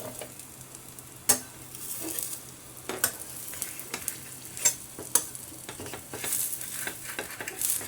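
Red radish thalipeeth cooks in oil in a covered pan, giving a soft, steady sizzle with a few sharp clinks and ticks scattered through it. No one speaks.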